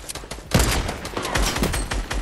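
Rapid bursts of assault rifle fire in a Fortnite trios match, loud and close, in quick repeated volleys with no pauses between shots.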